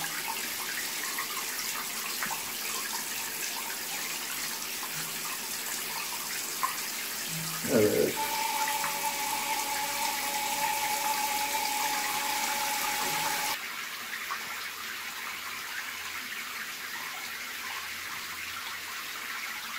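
Tap water runs steadily while a Yorkshire terrier is washed, a continuous rushing hiss that shifts in tone partway through as the flow changes, with brief splashing and handling noises near the middle.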